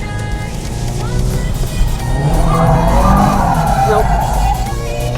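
A turbocharged and supercharged Subaru WRX has its clutch dumped, the engine revving and tires scrabbling and squealing in a rising roar, nearby and loud, with a brief spoken word over it.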